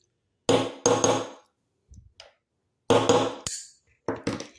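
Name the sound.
hammer tapping in a bearing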